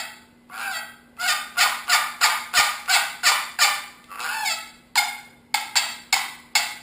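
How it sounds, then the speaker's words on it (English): Lynch's Foolproof turkey call played by hand, a close series of raspy yelps and clucks in quick rhythmic bursts with short pauses, clear and fairly loud with no talking. "Lynch's Foolproof Turkey Call"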